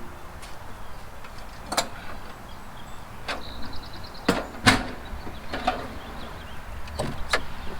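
An RV screen door is swung shut over newly installed Lippert Solid Steps folded in the up position, giving several sharp knocks and clacks with a brief mechanical whir, close by, against a steady low background hum.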